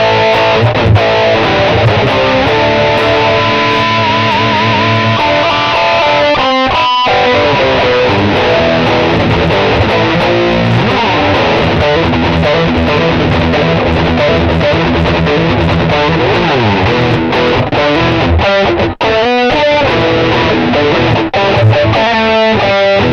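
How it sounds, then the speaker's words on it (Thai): Heavily distorted electric guitar through an Electro-Harmonix Tone Tattoo metal distortion pedal, playing chords and riffs, loud and continuous with a few brief breaks, no voices. "แล้วก็เสียงสุดท้ายนะครับที่ให้มาก็จะเป็นเมทัลมัพนะครับผม"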